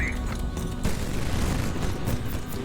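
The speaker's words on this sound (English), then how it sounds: "This thing just has a hail of gunfire. It's like Sea Whiz." A Sea Whiz-style gun platform in the HighFleet video game unleashes a hail of gunfire, a dense continuous roar of rapid booming fire that stays loud throughout.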